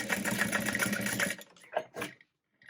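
Sewing machine running steadily for over a second as it top stitches a vinyl bag strap, then stopping; a few faint handling clicks and rustles follow before near silence.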